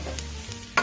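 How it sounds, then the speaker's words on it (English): Celery, garlic and onions being stirred in a hot pan, a brief soft sizzle with a couple of scraping strokes and a sharper clink at the end, close and quiet. "Now I'm going to throw this celery in there. Get that all mixed up."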